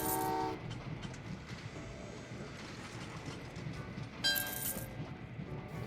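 Trains in Train Valley 2 rumble and clatter in a low, continuous mechanical drone, with short horn or whistle tones sounding at the start and again near the end.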